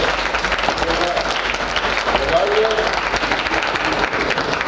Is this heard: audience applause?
yes